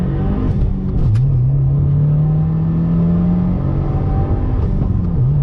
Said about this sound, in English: When you go to third, every time there's a great pop coming from the exhaust.